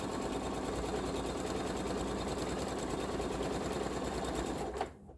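A sewing machine runs steadily while stitching interwoven star quilt pieces, a continuous fast mechanical whir at close range that stops abruptly near the end.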